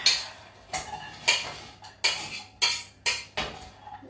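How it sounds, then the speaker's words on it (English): A kitchen knife chops onions on a board in a run of sharp, close, fairly evenly spaced strikes, about seven cuts in four seconds, with a faint low hum running underneath. "I'm chopping onions,"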